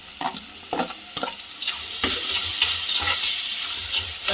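Onions sauté in a pan while being stirred, with scraping utensil strokes in uneven bursts over a continuous close frying sizzle; no one speaks.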